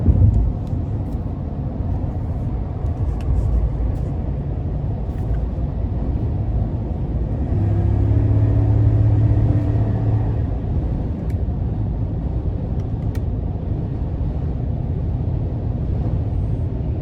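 A 2021 GMC Sierra 2500HD AT4 pickup with the 6.6-litre gas engine driving, a steady low engine and road rumble from inside the cab that swells briefly midway, with no talk.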